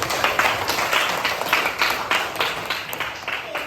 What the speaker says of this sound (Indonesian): Tepuk tangan dong untuk yang menjawab.